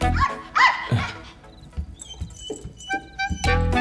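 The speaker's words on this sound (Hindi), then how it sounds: "दूर से देखकर ये भौंक रही थी, पास जाने पर प्यार से चाट रही थी।" A dog in a Hindi-dubbed film scene lets out short, close barks mixed with high whimpers and yips, in loud bursts at the start and end with softer whines between.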